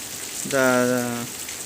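Steady rain patters in the background while a voice briefly speaks over it.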